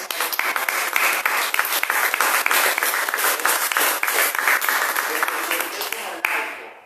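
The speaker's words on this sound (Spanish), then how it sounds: "yo creo que le demos un aplauso al apóstol" A church congregation breaks into loud, dense applause that carries on steadily for several seconds, then thins and tapers off at the end.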